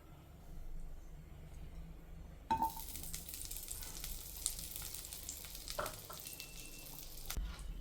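Butter melts in a pan for a creamy white veggie cheese pasta sauce; after a quiet start, a soft, faint sizzle begins and continues with a few light clatters, with no speech.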